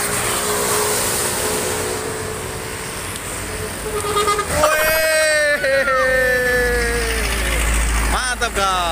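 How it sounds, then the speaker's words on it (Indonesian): A truck passes on a roadside in Indonesia while people wait for telolet horns; a rising engine rumble with tonal horn-like sweeps builds midway and swells toward the end, under steady talking. "Wah, ini ada truk nih."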